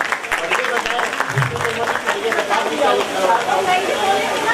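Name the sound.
audience applause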